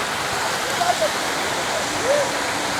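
A lazy river at a Cancun all-inclusive resort flows in a steady, rushing wash of moving water, with faint voices or whistle-like tones drifting in the background.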